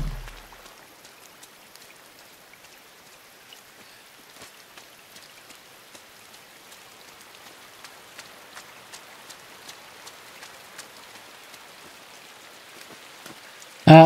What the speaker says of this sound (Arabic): المطر جميل مرة